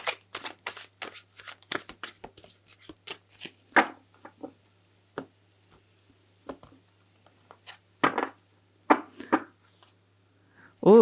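Rapid tarot card shuffling, a quick burst of riffling followed by scattered softer shuffles and flicks with pauses between, close and fairly quiet.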